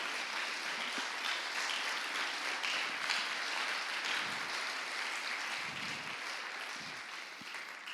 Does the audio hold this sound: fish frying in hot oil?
no